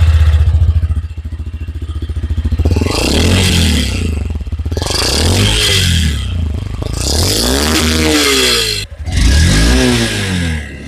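A Honda NX 200 motorcycle engine revs repeatedly from idle, its exhaust rising in loud surges and dropping back between blips, close and unaccompanied by talk.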